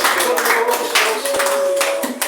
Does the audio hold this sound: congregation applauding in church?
yes